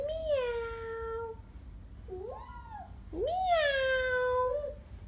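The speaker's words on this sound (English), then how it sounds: "Kitten meow." A kitten meows three times in a row, close and clear, each cry rising and falling, with a quiet indoor hum underneath.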